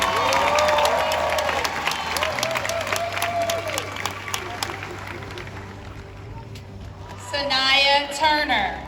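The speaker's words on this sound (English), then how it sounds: "Again, give all of our winners a round of applause." A graduation audience at a high school ceremony for the class of 2021 applauds scholarship winners: loud, dense clapping and cheering from a large crowd, with voices and shouts mixed in and a burst of whooping near the end.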